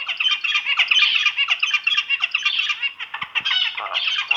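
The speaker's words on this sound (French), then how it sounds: "le mâle va courir vers sa femelle et se mettre à chanter" A male zebra finch sings to a female, a loud, close, continuous stream of rapid nasal squawks and chirps with no pause.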